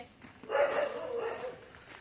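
A dog gives a short bark or yelp, fairly faint and somewhat distant, rising briefly and trailing off over the quiet.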